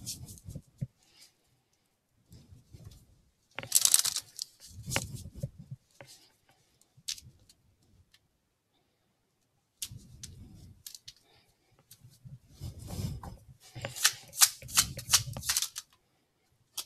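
Cards from a Romance Angels Oracle deck being shuffled by hand, a few separate rustling, riffling bursts with quiet gaps between them, close and soft with no talking.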